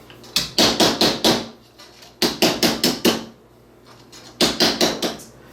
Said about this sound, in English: I'm going to texture this a feather pattern with, again, the same hammer